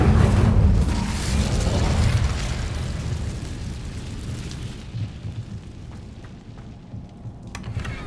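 The Incendio fire spell in Hogwarts Legacy bursts with a loud, booming whoosh of flame that rolls on and slowly fades over several seconds, with faint clicks near the end.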